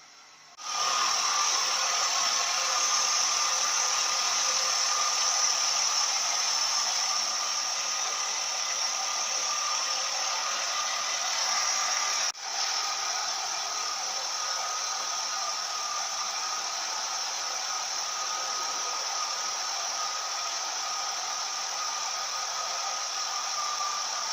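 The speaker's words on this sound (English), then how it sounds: "we can check the oil level with the motor running" A Ford automatic-transmission car (CD4E / Mazda LA4A-EL) idles in park during a fluid check, giving a steady, loud, even hiss-like drone that starts abruptly and holds unchanged for over twenty seconds with no talking.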